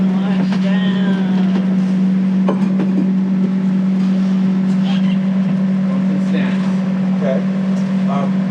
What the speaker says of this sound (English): Hearing the engine in the background, you may think, hey, what the heck? I thought this was a sailing race.